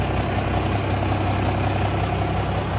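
A diesel engine idling on jet fuel runs with a steady, even rumble and constant vibration, close and loud throughout with no voices.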